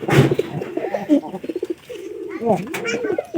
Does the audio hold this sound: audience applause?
no